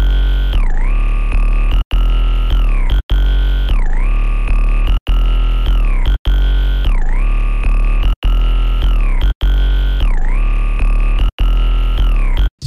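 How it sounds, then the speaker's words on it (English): A loud, deep 808 bass line from a trap beat made in FL Studio plays alone. Booming sustained notes repeat in a steady pattern, some gliding down in pitch, with each note cutting off sharply before the next. "So first for the 808, it sounds like this."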